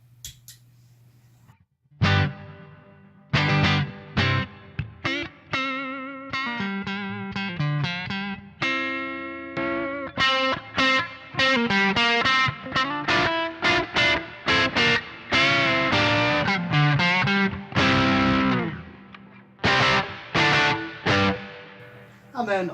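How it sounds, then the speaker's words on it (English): Electric guitar played through an Eno reverb pedal set to spring reverb, a slightly distorted tone. Picked single notes and chords sound in bursts, each one trailing into a reverberant tail, with no talking. "We're going to move it up to spring reverb."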